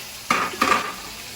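Onions hit hot oil with browning garlic in a pan while adobong labong is cooked, giving two quick bursts of sizzle that settle into a soft steady frying hiss, close up and without voices.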